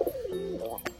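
A pigeon in a loft gives a single close, throaty coo with a rolling warble, followed by a brief flutter-like rustle.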